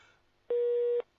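A telephone busy tone after a caller hangs up on a radio sports talk show: one steady electronic tone about half a second long, fairly loud and alone, with faint room noise before and after.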